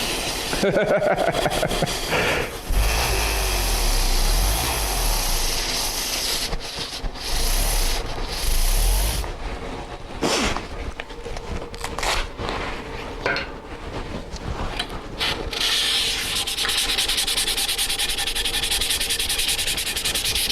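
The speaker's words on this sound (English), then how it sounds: "I need to sand with 220 here as well" 220-grit sandpaper rubs back and forth over curly wood by hand in uneven strokes, scratchy and close, with brief pauses between passes.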